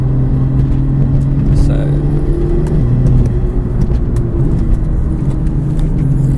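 A BMW M2 GTS idles steadily on track to warm its oil, a loud, close, low engine drone with a slight shift in pitch partway through, and a voice speaking faintly over it.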